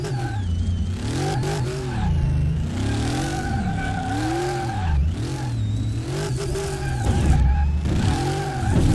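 In Car Mechanic Simulator 2018, a car's engine revs up and down in rising and falling sweeps as it drifts, loud and close, with tyre noise and a possible thump against a guardrail.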